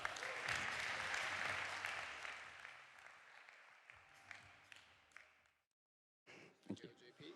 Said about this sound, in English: Please, let's give a big round of applause for JP Lewin from Foundy.